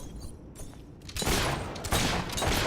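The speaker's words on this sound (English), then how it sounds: "Keep up that shooting and we'll be rid of them in no time." Rapid gunfire from shooting enemies in the video game Fable III, bursts of shots that start faint and swell into loud, sustained volleys in the second half.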